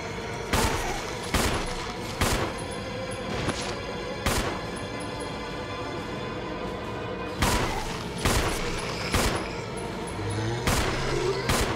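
Handgun shots in Resident Evil Remastered, about eight sharp reports spaced irregularly over a game soundscape, loud and close.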